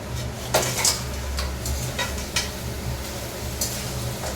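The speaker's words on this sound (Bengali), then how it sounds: "এবার কাঁকড়াটা ঢেলে দেবো।" Crab pieces tipped into a hot pan of spice paste land with a clatter of metal and a soft sizzle over a steady low stove hum, with a few sharp scrapes and knocks along the way.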